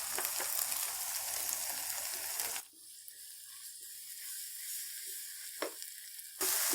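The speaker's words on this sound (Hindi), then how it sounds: "ब्लैक पेपर को हम 2 से 3 मिनट भून लेंगे ताकि ये कच्चापन इसमें से खत्म हो जाए।" Black pepper roasting in a pan while making nawabi paneer, giving a steady broadband sizzle that drops to a quieter crackle midway and then swells again near the end, close and alone with no talk.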